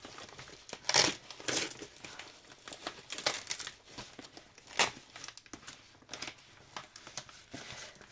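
Bubble wrap packaging around a handmade wolf creation is unwrapped, giving bursts of crinkling and crumpling plastic with sharp rustles at irregular intervals, close and fairly loud.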